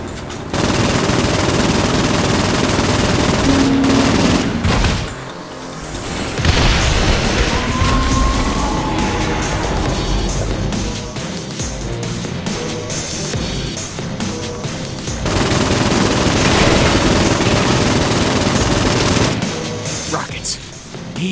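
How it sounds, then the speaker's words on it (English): Rockets and gunfire from the Saints Row IV video game, a dense, loud barrage of blasts and rapid shots running almost without pause, with a brief drop in intensity partway through. "More rockets."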